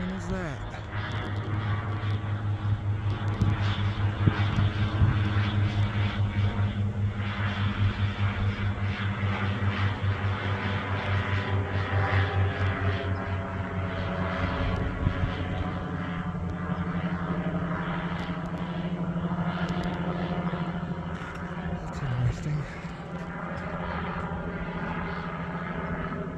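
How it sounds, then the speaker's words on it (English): An airplane passes overhead above an outdoor cannabis garden, a sustained engine drone that holds steady throughout while a person talks over it. "What kind of fucking plane is that?"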